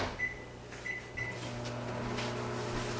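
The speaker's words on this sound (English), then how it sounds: "I'm just going to put it in the microwave for about 10 seconds and it'll be nice and hot." Microwave oven door clicking shut and beeps, followed by the steady low hum of the oven heating a soap brine mixture, close and fairly quiet, with no talking.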